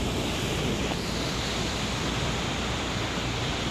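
Ocean waves surge and wash steadily on a Cambodian island shore, a loud, continuous broadband roar with gusts of wind buffeting the microphone and no voices.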